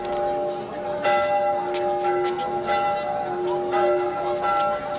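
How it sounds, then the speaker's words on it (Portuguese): Several church bells from the churches and chapels of Lisbon ring together, calling the faithful in overlapping, sustained peals, a full resonant clangor filling the space with faint background noise. "Os sinos confundiam os seus toques a chamar os fiéis"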